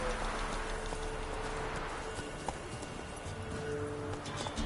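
Roach the horse gallops in The Witcher 3, hooves clip-clopping in a quick, continuous rhythm over a busy game soundscape.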